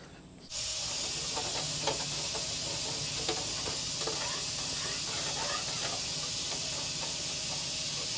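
Air hisses steadily into the intake of a long-idle Detroit Diesel two-stroke engine in a 6x6 truck. The suction holds at a constant level, close by, with faint clicks and rattles underneath.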